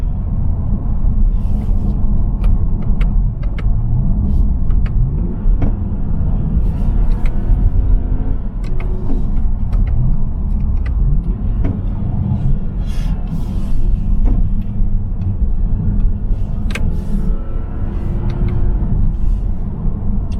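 A 2020 Toyota Avalon TRD sedan rolls downhill, heard from inside the cabin as a steady low road rumble and engine drone, with small ticks and knocks from the car throughout the run.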